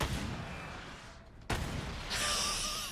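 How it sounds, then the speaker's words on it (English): The infinite rocket launcher fires in Resident Evil 4, giving a loud blast with a rumbling tail that cuts off and gives way to a bright, ringing aftermath. "we can now buy the infinite rocket launcher"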